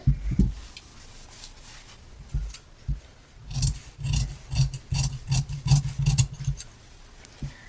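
Scissors cut through fabric for a child's top, a series of close, soft crunching snips that come in irregular bursts and grow denser and more rhythmic midway through.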